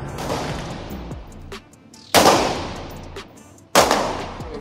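Rifle shots at an outdoor shooting demo day: three loud, sharp reports spaced about two seconds apart, each with a ringing echo tail, and no talk between them.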